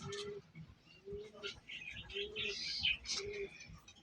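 Pigeons kept for sale at a Bengali breeder's loft, including a Rasgolla pigeon hen brooding eggs, give several soft, repeated low coos in a steady rhythm, with faint chirps and rustling in the background.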